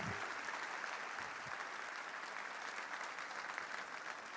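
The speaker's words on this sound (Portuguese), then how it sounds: "Você pode dar uma salva de palmas para Jesus?" A church congregation claps during a sermon, an even, sustained patter of many hands heard faint and distant, without a break.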